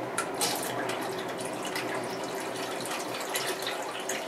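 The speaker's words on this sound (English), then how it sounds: "me pouring water into buckets is riveting television" Water pours steadily into plastic totes for a hydroponic lettuce setup, a continuous splashing, gurgling fill with small drips and sloshes, fairly close and alone without speech.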